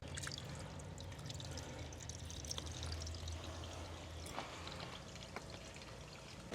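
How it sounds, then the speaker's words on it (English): Water drains from a swimming pool sand filter once the drain plug is pulled, a faint continuous trickle and pour with scattered small drips, fairly quiet and steady. "I'm going to remove this drain plug to begin the draining of the filter"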